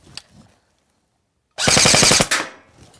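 A rapid burst of full-auto fire from a G&G Combat Machine R16 airsoft AEG, about a second of fast, evenly spaced shots, close and loud, after a brief quiet pause with faint handling noise.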